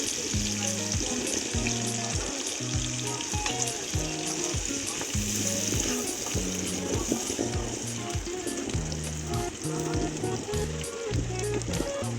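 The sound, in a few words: onion and garlic frying in oil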